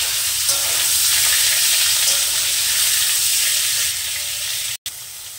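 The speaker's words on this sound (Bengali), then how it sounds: "সর্বপ্রথমে পনির কড়া হালকা একটু ভেজে নেব।" Paneer pieces frying lightly in mustard oil in a kadai, a loud, continuous close sizzle and hiss that holds steady throughout, cut off briefly near the end.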